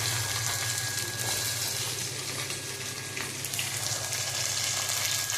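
Onions, green chillies and mint frying in oil for bhagara rice, a loud continuous sizzle with a steady hiss and faint crackle, close up with no talking.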